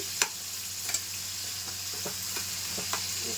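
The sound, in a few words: stirring cooking food in pan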